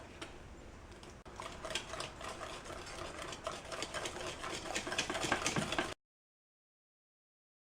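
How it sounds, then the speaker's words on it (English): A whisk works warm milk into an egg mixture in a bowl, a faint, fast, continuous scraping and clicking that grows busier, then stops abruptly before silence. "we're just going to whisk it in just a little bit at a time"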